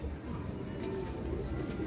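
Fancy pigeons cooing, a short low soft murmur of coos at close range, steady and quiet over a brief moment.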